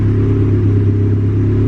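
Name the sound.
turbo Honda Civic engine idling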